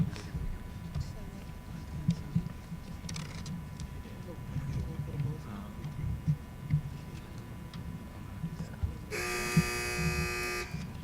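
An electronic quiz game show buzzer blares loudly near the end as a steady, harsh tone, after a stretch of crowd and room noise from the teams waiting.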